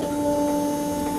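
An ABA Werke surface grinder hums steadily while its table travels back and forth. The tone is close and constant, with faint ticking mechanical sounds underneath.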